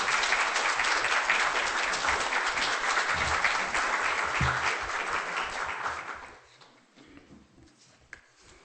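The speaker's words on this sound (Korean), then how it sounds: "우리 나오실 때 뜨거운 박수로 환영해 주시면 감사하겠습니다" A church congregation at a Korean Presbyterian church applauds warmly as a guest pastor comes forward. The clapping is dense and sustained for about six seconds, then fades quickly into quiet room tone.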